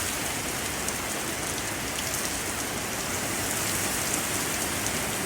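Heavy rain pours down in a dense, steady hiss during a severe thunderstorm with high winds in Upstate South Carolina, loud and constant with no talk.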